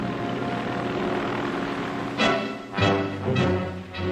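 A World War II-era propeller aircraft drones steadily overhead, with engine roar swelling in a few distinct surges as planes pass during an air campaign, no voices present.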